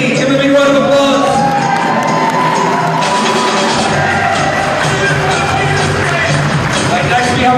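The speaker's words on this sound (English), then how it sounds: "Give them a big round of applause." Wedding guests cheer, whoop and clap in a loud, sustained burst of crowd noise filling the room.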